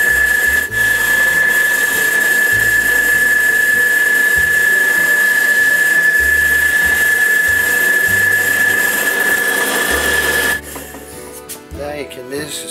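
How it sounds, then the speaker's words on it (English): A 3/8 sander spinning on a drill press whines at a steady high pitch while sanding a wooden piece, with low knocking and rubbing underneath, then cuts off near the end leaving quieter handling noise. "We'll sand them with a 3/8 sander on drill press."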